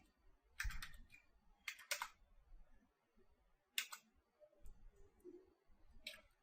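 Commands typed on a computer keyboard, sparse clusters of crisp key clicks in short bursts separated by quiet pauses, close and fairly faint.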